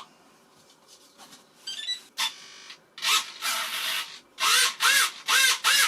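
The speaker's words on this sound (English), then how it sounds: "let's kick this servo tester and see what happens" A servo in a Multiplex Pilatus PC6 RC model, driven by a servo tester, whines in a run of sharp, close bursts: a few faint twitches, then several loud strokes that start and stop in quick succession.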